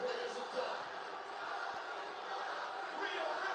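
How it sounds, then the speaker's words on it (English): A wrestling crowd chants "mommy" in a distant, muffled roar, a steady sustained swell of many voices heard from afar at low level. "The crowd is chanting mommy."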